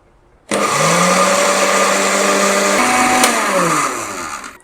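An electric blender grinds sugar into powder, switching on abruptly and whirring loudly and steadily for about four seconds, with a brief pitch change midway before winding down.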